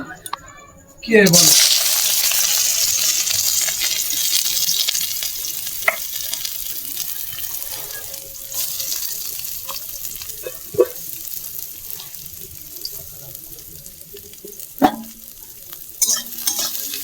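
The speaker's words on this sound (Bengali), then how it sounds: "তেলটা দেখুন গরম হয়ে গেছে। এবার কেটে রাখা পেঁয়াজগুলো দিয়ে দেবো।" Chopped onions hit hot mustard oil in a kadai with a sudden loud sizzle, then settle into a steady, close crackling fry with occasional stirring clicks and no talk.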